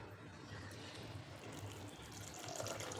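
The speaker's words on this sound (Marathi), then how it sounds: "त्यामधील पाणी काढून घेतलं आहे आता दुसरं पाणी घालायचं आहे" Fresh water is poured onto washed sago in a bowl, producing a faint, steady splashing flow that carries on without a break and grows slightly fuller toward the end.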